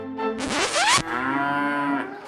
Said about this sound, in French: mais aussi des vaches laitières.